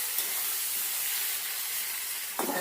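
Ingredients for shukto dal frying in a pan over a medium gas flame until lightly browned, a soft, steady hiss of sizzling oil, faint and continuous, with a brief clatter at the very end.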